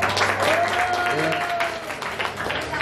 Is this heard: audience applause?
yes